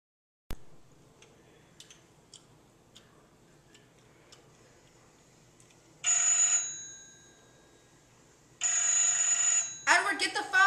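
A telephone bell rings in two loud bursts, each about two seconds long, separated by a pause, after a few faint ticks in a quiet room, with a voice shouting briefly at the end.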